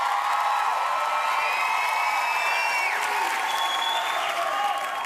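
Sustained crowd applause and clapping from a TV talent show audience, loud and continuous, with whoops and cheers layered through it.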